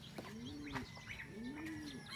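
Racing pigeons coo softly at a loft after an arrival training flight from Carcar, giving two rounded, rising-and-falling coos with faint chirps and light background noise.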